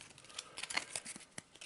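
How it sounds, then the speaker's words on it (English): A deck of spell cards from an Arkham Horror board game is given a quick shuffle, a quiet run of crisp, rapid paper flicks and riffles up close. "It's a spell deck. We'll just give it a quick shuffle."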